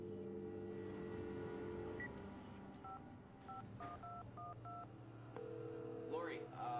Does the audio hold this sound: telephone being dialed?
yes